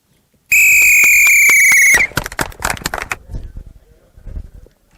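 A coach at a ball alley gives one long, loud, shrill whistle blast. It is followed by a burst of quick slaps and bounces of a ball off the wall, fading into lighter thuds.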